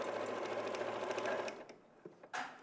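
Sewing machine stitching around the outer edges of fabric for a Christmas sewing project, running in a steady fast whir for about a second and a half, then stopping and restarting in brief bursts, close and moderately loud.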